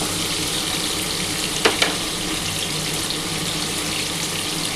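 Prawns fry in a pan for a prawn malai curry, giving a constant, even hiss of sizzling oil close by, with a couple of small clinks partway through.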